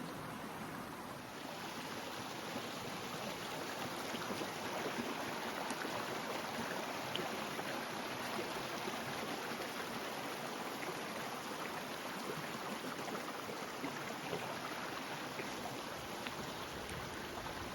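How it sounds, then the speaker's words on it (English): Water from a small river waterfall pours over rocks with a steady, dense, continuous rush at moderate level, unchanging throughout and free of voices. "So when the river goes through the rocks, they form a small waterfall when they fall down."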